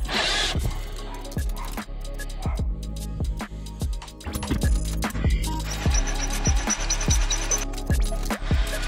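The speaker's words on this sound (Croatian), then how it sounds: "sad sam kupio ovaj alat za skidanje, za izvlačenje šarafa" A screw extractor bit grinds into stripped screws in steady, repeated bursts, each turn giving a sharp rasping knock, loud and close with no talking.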